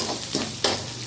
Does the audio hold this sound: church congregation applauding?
no